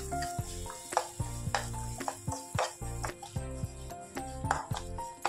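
Semolina (rava) roasting in oil over a low flame for rava kesari, a steady soft sizzle punctuated by repeated scraping and clinking of a spoon stirring against the pan, close up, with light background music.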